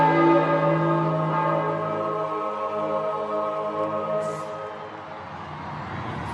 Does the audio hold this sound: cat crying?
no